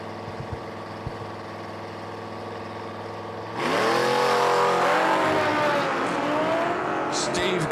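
A drag race pits a Mustang against a motorcycle: after a low rumble of idling engines, a sudden loud roar of hard acceleration kicks in halfway and holds steady with rising engine tones as they launch down the strip.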